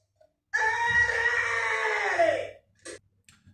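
A sick woman in a television drama lets out a long, loud, wavering scream lasting about two seconds, followed by a short breathy cry and faint noises.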